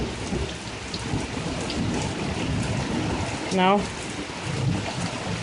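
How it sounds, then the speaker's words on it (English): A thunderstorm pours heavy rain in a steady hiss outdoors, with a low rumble of thunder rolling underneath, while a voice briefly speaks over the downpour. "Do you guys care that it's thundering and lightning out and pouring?"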